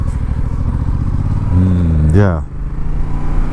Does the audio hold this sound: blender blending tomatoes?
no